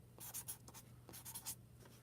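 Pen scratching across a sheet of paper as someone writes a word, a quick run of close, dry strokes in short bursts over about two seconds, with no talking.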